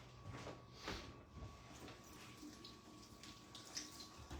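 Water from a tap runs as a cucumber is washed under it, a faint, steady splashing stream with a few soft knocks, close by and without talk.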